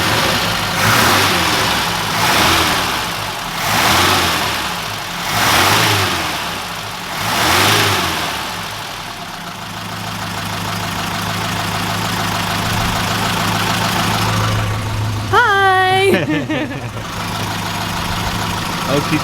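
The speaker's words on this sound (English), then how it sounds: "just to hear what the engine starts, what the engine sounds like." A 1969 Ford Capri with its 1.6 engine runs in a garage, revving in repeated rising and falling surges before settling into a steady idle, loud and close, with a brief voice near the end.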